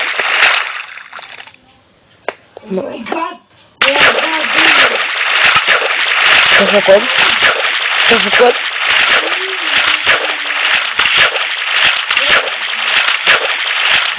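Loud, continuous splashing and sloshing water in a video game follows a brief quiet stretch, with a player talking excitedly over it.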